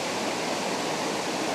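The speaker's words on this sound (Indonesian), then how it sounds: "Ya itu sungainya besar, bebatuan, airnya sangat deras." Big fast river rushing over rocks in the forest at Cidahu, Sukabumi, a dense, steady roar of whitewater close by, unbroken and loud throughout.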